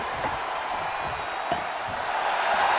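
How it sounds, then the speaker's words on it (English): A dense wrestling arena crowd at a WWE event roars and cheers continuously, a loud, steady wash of massed voices with small swells. "The sound of this crowd is deafening, and he's asking for more"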